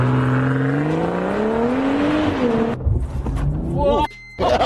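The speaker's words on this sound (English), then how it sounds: "Let's put the car in launch mode and let's see what it feels like to give this car a launch." A 2020 BMW M340i xDrive launching hard in launch mode, its engine note rising steadily in pitch as it accelerates before shifting and climbing again, heard from inside the cabin with brief exclamations from the occupants.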